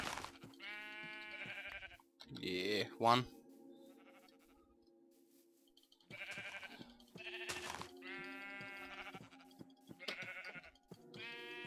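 Sheep bleating in the Minecraft Hexxit modpack game, several wavering bleats spread across the stretch with hitting and clicking sounds between them, and a voice talking briefly.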